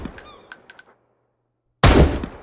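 A single sharp, loud rifle shot in the video game Sunkenland bursts out after a moment of silence and decays quickly, preceded by fainter tonal game sounds.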